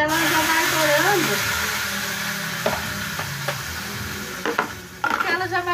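Sizzling and crackling from food frying in a pan in a home kitchen, dense and close with a steady bright hiss, a few sharp clatters of a utensil and a voice speaking over it early on.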